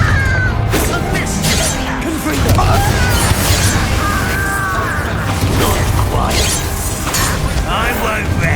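A Confringo blasting spell bursts in Hogwarts Legacy, sharp booms and shattering crashes ringing out among clanking mechanical noise, with a voice speaking over parts of it.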